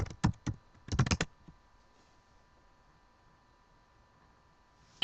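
Login details being typed on a computer keyboard: a quick burst of close keystrokes, a brief pause, then a dense cluster of taps, followed by a long near-silent stretch with faint hum and one last click at the end.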